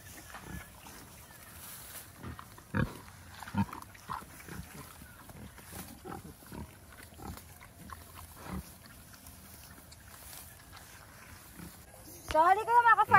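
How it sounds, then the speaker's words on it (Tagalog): Native pigs grazing on grass in a free-range farm plot give scattered low grunts and snuffles along with chewing and rustling, while someone talks over them the whole time. "So ayan yung mga baboy natin dito. At lahat sila kumakain ng mga damo-damo."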